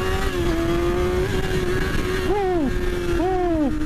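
A motorcycle on an early-morning ride roars close by in a steady engine drone, then revs sharply twice in rising-and-falling bursts as it pulls a wheelie across a narrow one-lane bridge.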